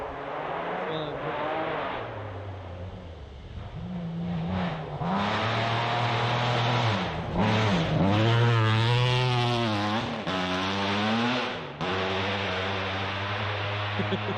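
A rally car blasts past on a forest rally stage, its engine roaring loud and raw with rising and falling revs and gear changes across the pass, close to the listener and with no talking.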